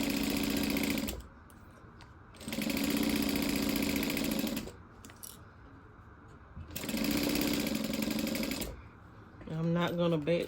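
A sewing machine basting zipper tape at a 3.5 stitch length for a circle handbag, three bursts of rapid mechanical stitching separated by pauses, with a voice speaking briefly at the end.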